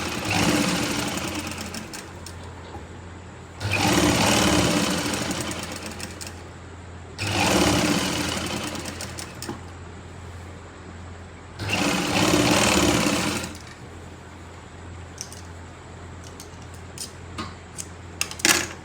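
A sewing machine stitching the seat seam of palazzo pants, running in three loud bursts of rapid mechanical whirring a few seconds apart, with quiet pauses and small clicks between them.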